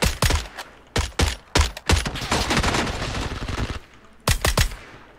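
Gunfire in the battle royale video game PUBG: loud, sharp bursts of automatic weapon fire in clustered volleys, separated by short gaps, with a sustained stretch of rapid shots in the middle and no talking.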